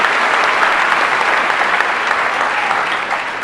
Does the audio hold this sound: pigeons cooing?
no